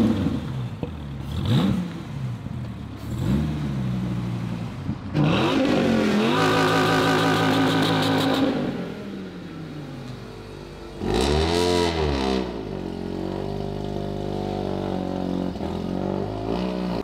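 A Mazda RX-8 rotary engine revving while driving, rising and falling in several loud pulls with a sustained high-revving stretch, then dropping back to a steady drone.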